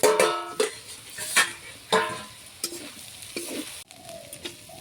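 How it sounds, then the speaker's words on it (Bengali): Drumstick flowers stirred into coconut and shrimp frying in a pan: loud scraping stir strokes and spatula knocks come in quick uneven bursts over a crackling sizzle. "সজনে ফুল দিয়ে দিচ্ছি। ভালো করে এখন নাড়াচাড়া দিয়ে দিচ্ছি।"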